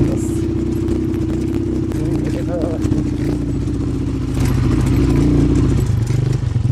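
Motorcycle ridden off-road along a rough mountain track, its engine a steady loud drone with rattling clatter throughout, growing louder near the end, with a voice speaking over it.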